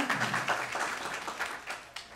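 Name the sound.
audience applause at a lecture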